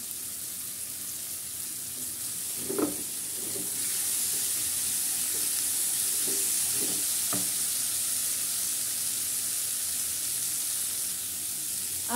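Drumstick stems sizzling in a hot pan for a vegetable curry with shrimp, a steady close frying hiss with a few knocks of stirring and the sizzle swelling slightly midway, no voices.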